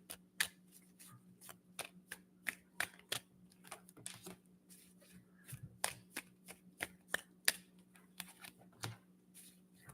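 Tarot cards being shuffled and dealt, a quick run of crisp, papery riffles and slaps close by, uneven in rhythm and going on throughout over a low steady hum.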